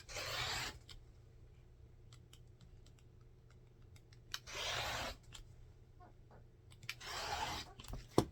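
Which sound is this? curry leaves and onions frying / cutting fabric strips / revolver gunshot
cutting fabric strips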